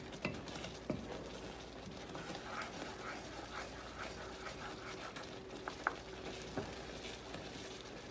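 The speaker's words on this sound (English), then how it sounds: "I have to keep stirring that because it thickens on the bottom of the pan" A spoon scrapes and taps across the bottom of a pan while cream sausage gravy is stirred and thickens, giving soft irregular clicks and light scraping over a faint bubbling background.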